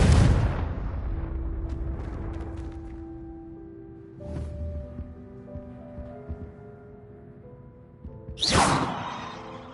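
Confringo fire spells burst in Hogwarts Legacy gameplay: a loud opening blast, a second explosion around four seconds and a third sharp boom near the end, each trailing off in rumbling debris and ringing tones.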